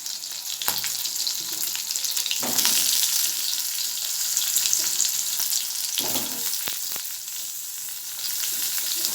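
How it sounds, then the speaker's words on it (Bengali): Potatoes and pointed gourd frying in hot oil in a pan, a steady close sizzle running the whole time with a few louder bursts as the vegetables are stirred. "আলু আর পটল একটু হালকা করে ভেজে পটল দেবো।"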